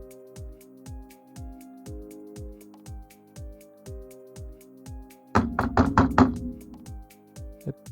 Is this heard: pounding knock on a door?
yes